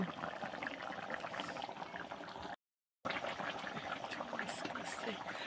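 Chicken curry simmering in a covered pot on a wood-fired chulha, a soft continuous bubbling and crackling, faint and steady, broken by a brief silent gap.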